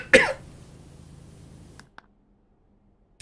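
A single sharp cough close to the microphone, followed by quiet background hiss and a couple of faint clicks.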